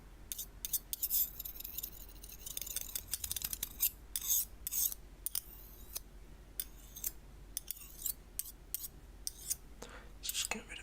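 Quick, scratchy rasping strokes of a blade being sharpened, coming in irregular bursts over a quiet background, close and fairly soft.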